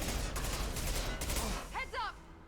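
Sustained rapid gunfire from the Mass Effect 2 video game, loud and continuous for most of the moment before cutting off, followed by a brief spoken voice.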